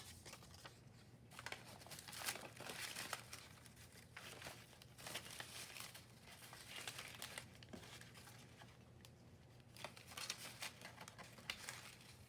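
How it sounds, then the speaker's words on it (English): Dictionary pages are torn into strips, producing faint, close papery rips and crinkles that come in irregular bursts over a low steady background hum. "I do a lot of strip tearing, don't I?"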